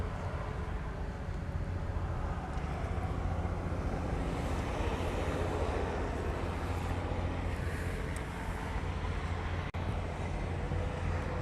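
A Southwest airliner departs on the reef runway at Honolulu airport, its engines a steady, broad distant roar that holds evenly throughout, with a faint wind-like hiss over it.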